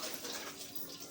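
Tap water runs continuously as dishes are washed, a brief, soft and steady rushing stream at a little distance.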